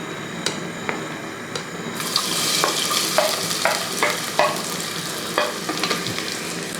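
Chopped ginger and garlic sizzle and fry inside a pressure cooker while a spoon stirs them, giving a steady crackling hiss broken by scraping, clattering strokes against the metal; no voices.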